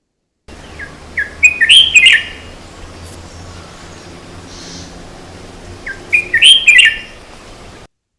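A recorded bird call plays twice, each a loud burst of sharp, rapid chirping notes lasting about a second, separated by several seconds of quiet background.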